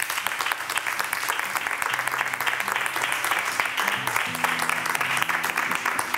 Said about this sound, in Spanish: Un fuerte aplauso para Carlos Pobés.